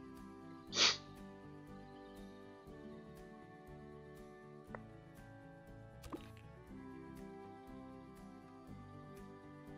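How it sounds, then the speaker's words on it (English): A single sharp human sneeze bursts out near the start, loud and close, followed by quiet background music with a few faint clicks. "now that I've finished sneezing, let's get to our new animals"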